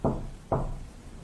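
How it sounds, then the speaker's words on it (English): Two firm knocks on a door, spaced about half a second apart, each a sharp hollow thud with a short decay, loud and close with no voices. "I hear a knock at the door."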